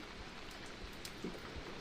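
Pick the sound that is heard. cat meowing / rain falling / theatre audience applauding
rain falling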